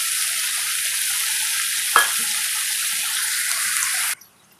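Two medium onions in hot oil sizzle with a loud, steady hiss, broken once by a short clatter of stirring, before the sizzle cuts off abruptly near the end.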